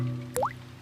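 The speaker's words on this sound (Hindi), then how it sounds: "डैडी पिग बूंदें इकट्ठा करने के लिए बाल्टी का इस्तेमाल कर रहे हैं।" A single cartoon water drop falls from a roof leak into a bucket, one quick plink with a rising, bubbly pitch, clear against a faint background hum.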